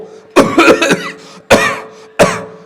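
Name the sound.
imitated coughing fit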